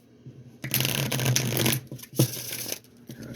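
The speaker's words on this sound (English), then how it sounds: "I'll shuffle 3 more times" A deck of cards is shuffled in two bursts of dense riffling, the first longer and the second shorter, close and fairly loud with no talk.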